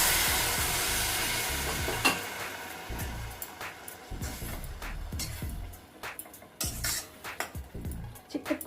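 Thick milk poured over fried grated carrot in a pan for carrot halwa, a burst of hissing sizzle settling into repeated close scraping and stirring strokes with occasional utensil clinks.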